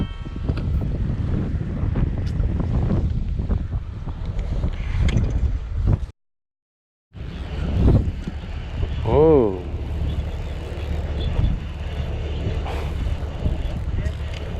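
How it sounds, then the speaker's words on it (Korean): Strong wind buffets the microphone on a small fishing boat out at sea during a webfoot octopus trip, a constant rough roar with a short silent gap, while someone talks over it. "바람이 많이 부는데요 배가 밀린 상황입니다"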